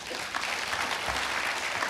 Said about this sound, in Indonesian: Tepuk tangan Tuhan kita ada.